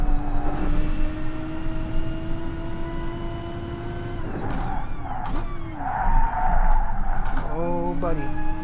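A Gr.3 or Gr.4 race car's tires squeal and skid as it fishtails in GT Sport, the engine whining through gear changes, with a person talking over it.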